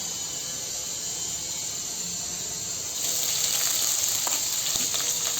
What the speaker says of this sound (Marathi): मिरच्या छान तळून घ्यायच्या आहे